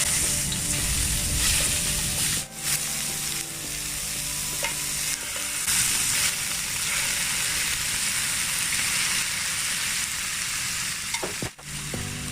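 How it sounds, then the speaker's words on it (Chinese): Chicken wings fry steadily in hot oil in a wok, a loud continuous sizzle that fills the whole stretch with no talking. "当油烧热之后，我们就再把鸡翅膀放进去煮"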